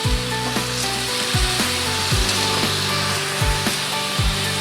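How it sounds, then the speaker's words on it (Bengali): Squash with turmeric sizzles steadily in a pan as it is sautéed, a constant close frying hiss punctuated by regular soft knocks of a spatula against the pan roughly every half second. "এটাকে ভালো করে কষিয়ে নেবো।"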